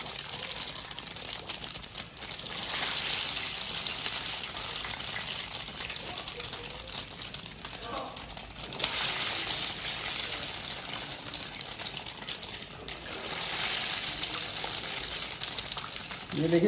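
Chicken shami kababs dipped in beaten egg sizzle in hot oil, a continuous bubbling hiss with surges of louder crackle, close and steady, while a voice talks now and then over the frying.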